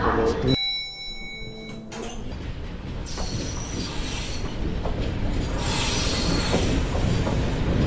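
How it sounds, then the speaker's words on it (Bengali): A train stands at a railway station platform, heard close with a rumbling, clattering hiss, a brief high ringing tone at the start and a rising roar of carriage noise toward the end. "এটা আমাদের ট্রেন"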